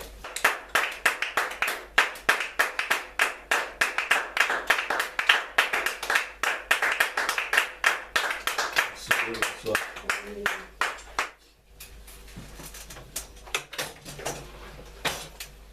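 Congregation in a church clapping in a fast, steady rhythm with voices calling out over it, the clapping thinning and fading near the end.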